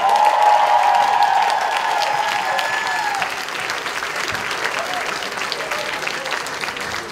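Sustained audience applause fills a hall at a student pops-symphony orchestra gala concert, loud and dense throughout, with a faint lingering tone from the music at the start.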